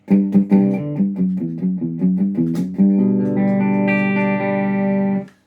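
Electric guitar with heavy distortion through a Marshall JMP-1 preamp plays a run of quick picked notes, then rings out on a loud sustained chord before cutting off.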